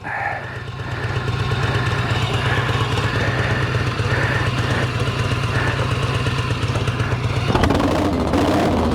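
A vintage Harley-Davidson motorcycle engine runs steadily and close, either a 1966 Shovelhead or a 1940 UL Flathead, loping along with a strong low rumble. Near the end a brief burst of wind-like noise rises over the engine.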